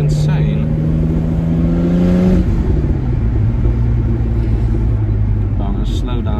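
A BMW with an N54 engine and a freshly installed twin-plate organic clutch drives along, its engine note droning loud and close, then dropping in pitch as it slows, with a voice speaking over it.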